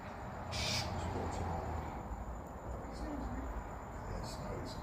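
A bird perched on a fence calls out in short, scattered bursts. A person talks over it throughout, partly masking the calls.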